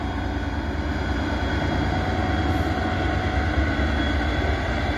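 Class 66 diesel locomotive 66707 hauling a container train, a steady, dense rumble and rolling roar held at constant loudness for the whole stretch, with no clear individual clanks or horn.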